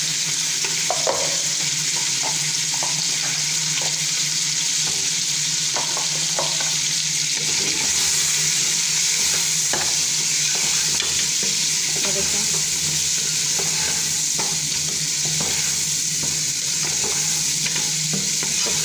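Lahori-style mutton trotters fry with spices in a pot, giving a steady, close sizzle with stirring and scraping throughout and almost no talking.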